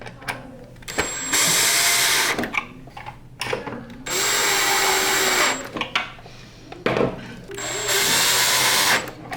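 A power driver runs in three sustained bursts, driving screws into the plastic handle cover of a Prolux CTX vacuum, with brief pauses and small handling clicks in between.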